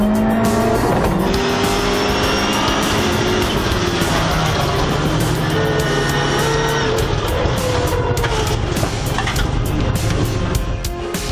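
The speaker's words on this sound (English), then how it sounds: "Driving on the bare rim, Sverre slides wide" A race car running on a flat tire, skidding on the bare rim, with loud, continuous engine roar and screeching tire squeal carrying steadily throughout, close and intense.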